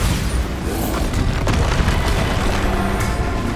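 Bombarda explosion spell in Hogwarts Legacy, a loud booming blast inside a dense roar of combat noise, with sharp bursts cracking through the sustained rumble.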